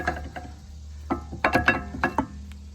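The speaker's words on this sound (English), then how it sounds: "with a little wiggling, these brake pads are just gonna come right on out" Brembo brake pads worked loose from a caliper with a series of metallic clicks, rattles and scraping knocks, irregular and close, with a steady low hum underneath.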